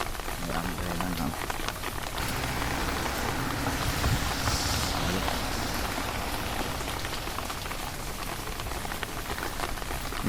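Steady rain patters on an umbrella and nearby surfaces during a walk, a dense continuous hiss with scattered drops. A faint voice murmurs briefly underneath.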